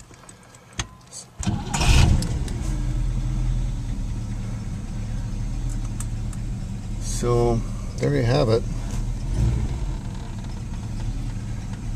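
A 1959 Cadillac engine with its exhaust resonators removed starts with a loud rumble, then settles into a steady low idle with a couple of brief revs, as someone talks briefly over it.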